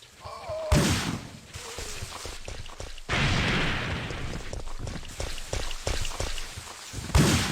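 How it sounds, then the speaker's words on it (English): Game explosions from Resident Evil 3: Nemesis (1999), with booming bursts and crackling debris from a grenade launcher, one blast landing late after the shot, loud and rumbling over busy in-game sound. "There's a delay on the explosions."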